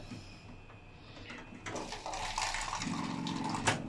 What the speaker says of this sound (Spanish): Vamos a echarle solo un poquito de agua caliente.